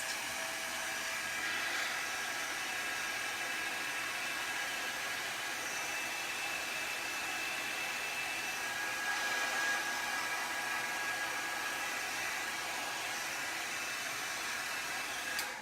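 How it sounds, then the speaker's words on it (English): Heat gun blowing hot air, a steady, even hiss-like roar of forced air held throughout, close and moderately loud with no talking. "Once your heat gun gets really hot,"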